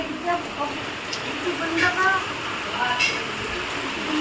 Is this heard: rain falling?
yes